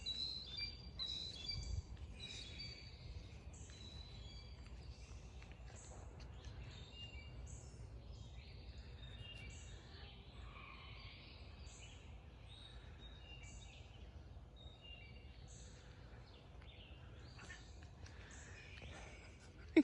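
Birds in an early morning garden chirp and squawk over a faint steady background, with scattered calls at a distance across about twenty seconds and no talking.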